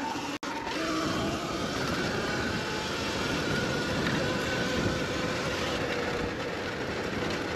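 A Sur Ron electric dirt bike accelerates at full throttle across a farm field. It makes a loud, steady rushing whir with a faint rising whine running through it. No one speaks.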